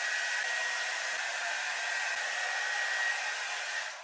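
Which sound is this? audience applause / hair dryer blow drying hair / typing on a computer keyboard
hair dryer blow drying hair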